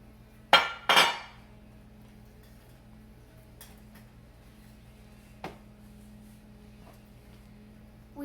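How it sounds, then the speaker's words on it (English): A banana bread pan set down on a wire rack to cool, giving two sharp metallic clinks close together near the start, then a softer knock a few seconds later over quiet kitchen hum. "now we're going to put it onto a wire rack so it can cool down"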